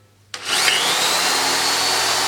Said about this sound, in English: now let's drill some 40mm holes